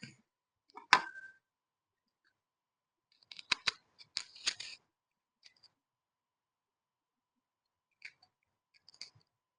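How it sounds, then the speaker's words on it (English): A knife cuts a piece of onion in a few sparse, crisp snips and crunches, close and quiet, separated by near silence. "I'm going to cut this piece of onion."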